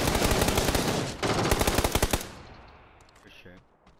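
Rapid automatic gunfire bursts in PUBG, loud and dense for about two seconds with dense repeated reports, then trailing off into fading echoes and quieter clatter.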